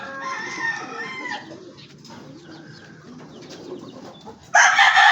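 Stock chickens in the Philippines crow and cluck nearby, with a drawn-out crow at the start, scattered bird calls through the middle and a sudden loud burst of crowing near the end.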